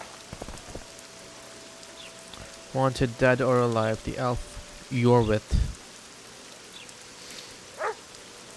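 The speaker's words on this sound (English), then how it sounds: "I knew it would rain." Rain patters steadily on surfaces in The Witcher 2 game world, a constant close hiss running under short stretches of spoken dialogue.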